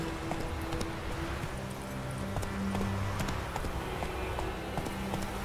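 A horse galloping in The Witcher 3, steady rapid hoofbeats close by over continuous outdoor ambience, with a faint voice briefly underneath.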